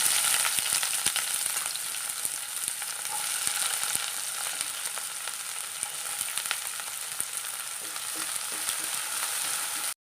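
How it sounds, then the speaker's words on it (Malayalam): Steady, close sizzling of ginger and onion frying in hot oil in a kadai, with occasional stirring clinks and crackles throughout, no voices. "കുറച്ച് ഇഞ്ചി ഇട്ട് കൊടുക്കാം കുറച്ച് സവാള ഇട്ട് കൊടുക്കാം"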